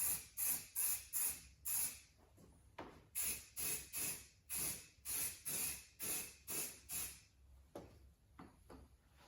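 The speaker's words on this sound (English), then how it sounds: "Just going to put a spray of that on here just to protect obviously the bare metal so the rust doesn't come back" An aerosol can sprays a protective coat onto a bare metal car panel before vinyl wrapping, sounding as a series of about a dozen short, sharp hissing bursts in an even rhythm with brief pauses between them, nearby and unaccompanied by talk.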